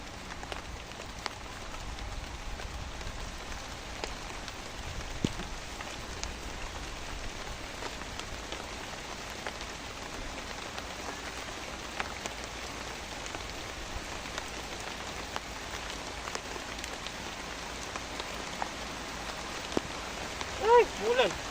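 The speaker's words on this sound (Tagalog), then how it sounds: "Umuulan na." Steady rain falling outdoors beside an eggplant garden, a constant soft patter of drops hitting surfaces throughout, faint and even, with occasional sharper drips and no talk.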